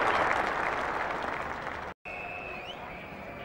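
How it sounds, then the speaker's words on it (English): A cricket crowd and England teammates applaud David Gower in a steady, loud wash that fades slightly. After a brief cut, quieter ground ambience follows with a faint tonal whistle. "England teammates standing, applause from the field as well."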